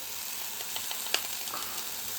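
Faint sizzle of a fried tomato mixture being stirred in a pan, a steady frying hiss with soft scraping strokes and one brief clink, no voices.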